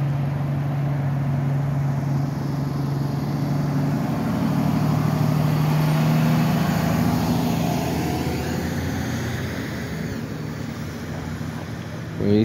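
Cars speed past on a city street with a steady traffic roar and wind buffeting, one vehicle swelling louder as it passes close by mid-stretch before fading, with no clear talking.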